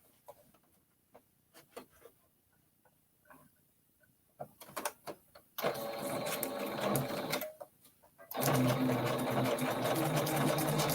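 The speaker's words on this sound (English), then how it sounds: "with the sewing machine" A sewing machine starts with short bursts of stitching, then runs steadily in two long, loud stretches of fast mechanical whirring.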